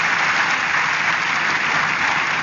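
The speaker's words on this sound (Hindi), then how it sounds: "जोरदार तालियों से स्वागत करिए" An audience gives a steady, dense round of applause to welcome a speaker onto the stage, with many hands clapping evenly and loudly throughout and no voices over it.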